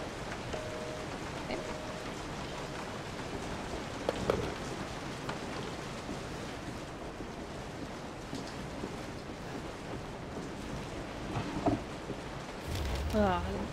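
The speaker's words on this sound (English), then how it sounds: "Rain sounds are wonderful." Rain falling in the horror video game Resident Evil 7, a soft, steady patter across the whole stretch at low level, with a few brief thuds and knocks mixed in.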